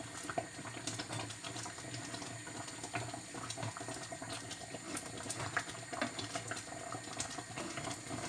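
Jam boiling in a kitchen pot, a dense continuous bubbling and popping fizz that holds steady and fairly close throughout, with no talking.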